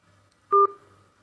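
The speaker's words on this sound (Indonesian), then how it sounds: "Kita terima telepon terlebih dulu, sepertinya sudah ada yang masuk." Two short telephone dialing tones sound in quick succession as a caller connects during a live broadcast Islamic lecture call-in segment, clear and loud over quiet background, with no talking.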